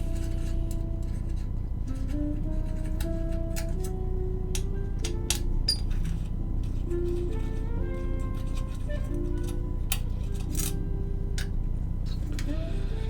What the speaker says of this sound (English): I'm just gonna undo these 8 screws